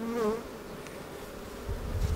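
Honey bees buzzing in a hive during spring hive work, a close, steady humming drone with a louder bee passing briefly near the start.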